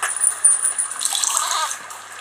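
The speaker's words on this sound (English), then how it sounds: "Ah, I spilt all the water by accident." Water spills and splashes in a short, close, loud gush that runs for about two seconds, with no talk over it.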